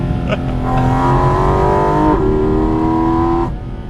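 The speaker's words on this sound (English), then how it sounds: "I'm blasting up the System Pass in a GT4 RS with my friend in a GT3 RS behind me" A Porsche GT4 RS accelerating hard up a mountain pass, its loud flat-six engine rising in pitch through the gears with a shift midway, close and continuous, with a GT3 RS following behind.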